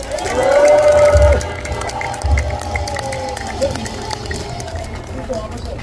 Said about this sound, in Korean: 상진아재에게 박수 한번 보내주세요